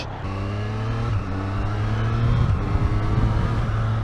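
A 2023 Triumph Street Triple R three-cylinder engine pulls steadily while riding, its smooth, rising drone climbing through the gears and staying close and even throughout.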